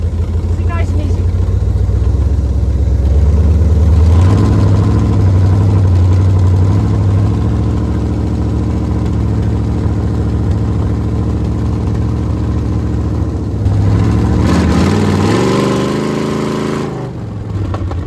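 A 1984 Pontiac Grand Prix race car idles with a loud, rough, low rumble that keeps going throughout, with a few revs rising and falling. Voices talk over the engine.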